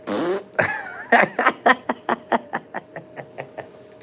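A drawn-out fart opens, followed by a rapid string of about a dozen short, sputtering fart pops that grow gradually fainter, close and loud with nothing else over them.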